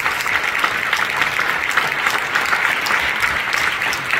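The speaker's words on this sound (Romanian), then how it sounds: "vă invit să aplaudăm" An opera festival gala audience applauds the orchestra steadily, a dense wash of clapping that stays loud and even for several seconds without pause.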